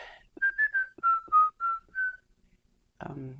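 Someone whistles a short, clear tune of about eight notes at a moderate pace, followed by a pause and then a voice starting to speak.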